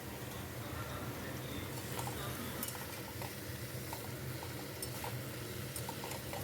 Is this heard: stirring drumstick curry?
yes